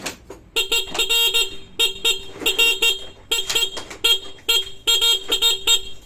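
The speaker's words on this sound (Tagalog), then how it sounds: "Ang ganda ng busina niya." A Yamaha RS 100 motorcycle horn honks repeatedly in quick bursts of short and longer toots, loud and close, with a bright, buzzy tone.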